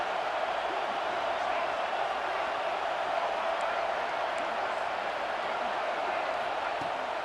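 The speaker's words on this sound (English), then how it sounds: "The roar of the crowd trying to fuel this defense to keep them pinned in their own end." Steady roar of a stadium crowd in a college football video game, South Carolina against Texas A&M, a dense continuous wash of noise holding at an even level for the whole stretch.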